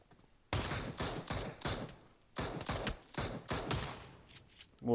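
Several sharp bursts of rapid gunfire in PUBG Mobile, played in a mode with shotguns and AKM rifles, come in quick clusters. Short gaps separate the bursts, which sound loud and close.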